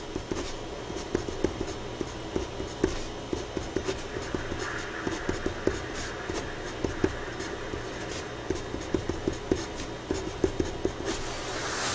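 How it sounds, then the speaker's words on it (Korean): Pen or pencil lettering along guide lines on architectural drafting paper, a dense run of faint scratchy strokes and taps that continues steadily throughout, close and quiet with no talking. "그러니까 인접대지 경계선 한번 써볼게요."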